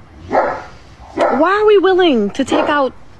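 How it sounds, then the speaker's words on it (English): A neighbor's dog barks in the background in a few bursts and yips while a person talks over it. "excuse the dog in the background, my neighbor's dog."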